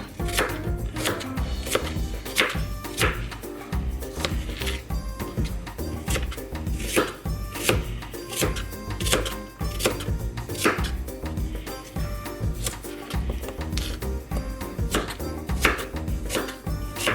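Knife slicing food on a cutting board in a home kitchen, a steady run of crisp, close chops repeating throughout with a busy, dense rhythm and no voices.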